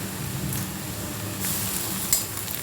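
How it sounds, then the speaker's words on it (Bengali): Garlic goes into browned onions frying in oil in a pan for a Bombay duck jhuri, making a constant close sizzle with a few brief stirring scrapes and no talk. "এই পর্যায়ে আমি রসুনটা এর মধ্যে দিয়ে দেবো।"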